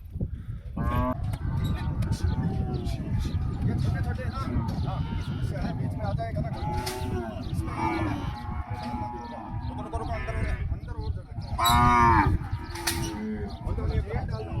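Cows low repeatedly at a cattle gate on a farm, several loud moos rising over steady livestock noise and chatter, while someone talks throughout.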